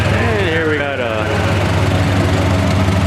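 International letter series tractors run at a show, a close, steady low engine drone with a faint whine sweeping across it midway.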